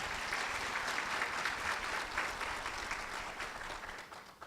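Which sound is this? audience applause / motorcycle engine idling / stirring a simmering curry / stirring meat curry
audience applause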